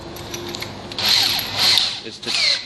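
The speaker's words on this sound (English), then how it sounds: "is to drill all the way through the door in the 4 holes, keeping your drill leveled and centered" A power drill with a 1/4 inch bit bores through a commercial door, whining in three rising bursts with short pauses between, close and fairly loud, with woody grinding under the tone.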